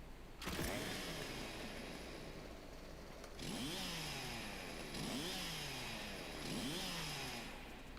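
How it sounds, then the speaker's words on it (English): Chainsaws revving in a video game, a steady mechanical drone with repeated rising and falling whines in three or four surges, moderately distant and fairly faint beneath game ambience. "I hear some chainsaws going off."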